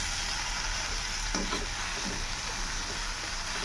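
Masala frying in a small, cramped kadai while being stirred, a dense steady sizzle with a few scraping stir strokes near the middle, close and continuous.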